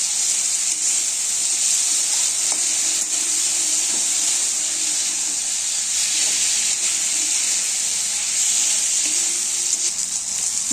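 Tangra fish with winter vegetables, mixed with spices, water and salt, sizzling steadily in a wok while being stirred, a bright continuous frying hiss with faint scraping touches throughout.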